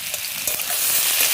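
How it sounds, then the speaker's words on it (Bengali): Ridge gourd (torul) frying in a pan, a steady close broadband sizzle with a few soft stirring scrapes, constant and fairly loud for a brief moment, with no voices. "ভাপিয়ে নিয়ে আর ভাজতে বসিয়ে দিয়েছি। তরুলটা ভাজবো"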